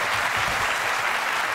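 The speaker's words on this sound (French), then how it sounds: "un petit peu plus d'applaudissements pour les suivants" Steady, dense applause from a large audience at a conference, a continuous wash of clapping throughout.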